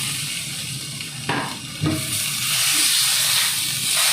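Boiled potato tipped into a hot pan of frying vegetables for veg cutlet filling, giving a soft thud and scrape of stirring over a continuous loud sizzle and hiss.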